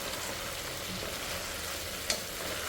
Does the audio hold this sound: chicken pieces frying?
yes